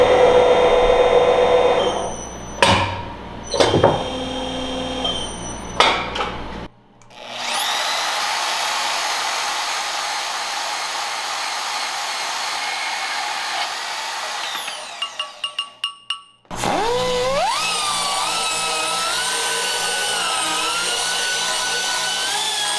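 Metal tube bung being ground out with a power tool for a front dual A-arm on a YZ450F-powered buggy: a few short bursts, then a long steady high-pitched whine lasting several seconds, a brief pause, and another sustained grinding run.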